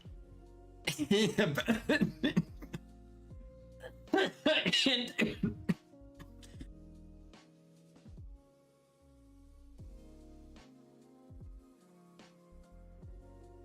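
A man coughs in two harsh, close bursts of several hacks each, a few seconds apart, over quiet background music during a live whiskey happy-hour show.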